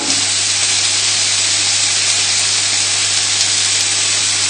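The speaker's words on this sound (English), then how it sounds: "You can just sprinkle the chilli all over around the lamb." Lamb sizzles steadily in a hot pan as chilli is sprinkled over it, giving a loud, continuous hiss up close with no voices over it.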